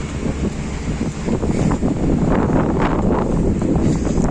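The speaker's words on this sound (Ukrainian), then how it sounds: "Боже, який вітер." Strong wind buffets the microphone in loud, rumbling gusts that build and stay heavy, with no voices heard.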